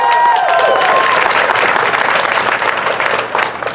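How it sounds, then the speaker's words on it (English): An audience at an environmental justice rally claps and cheers in a loud, dense burst of applause that holds steady for nearly four seconds, with a whoop early on. "Let's give them a big round of applause."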